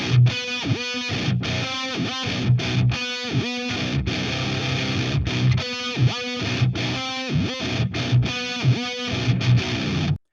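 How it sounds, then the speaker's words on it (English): Distorted electric guitar pitched down two octaves through a Whammy DT pedal, playing a rhythmic riff of heavy, stabbing, choppy chords with short gaps, loud and continuous for about ten seconds. "I'm going to use my whammy DT pedal to do those sort of pitch down effects"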